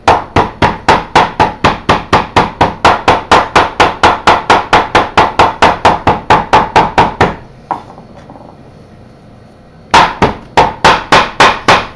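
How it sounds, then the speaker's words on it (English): Rapid, steady hammer blows pound a yucca leaf to loosen its fibers, a long run of close, evenly spaced thuds that pauses for about two seconds before the pounding resumes. "just start pounding the leaf to loosen up the fibers"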